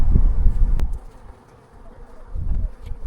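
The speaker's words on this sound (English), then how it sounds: "it's mostly the queen, or I'm sorry, the female honeybees that do all the work" Honeybees buzz around an open hive during maintenance, a low droning hum that swells, dips quieter midway, then rises again, with a brief sharp tap near the start.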